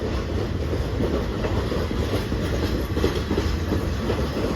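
A train rumbles steadily nearby at Hat Yai Junction railway station in Thailand, with a continuous rolling roar and faint rhythmic clatter of wheels on track.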